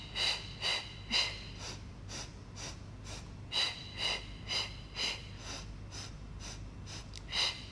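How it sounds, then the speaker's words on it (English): Rhythmic heavy breathing during an ab exercise in a gym workout: a series of short, forceful breaths in an irregular pulse, close and moderately loud, with no talking over them. "And inhale, and inhale, and exhale, exhale, exhale, exhale."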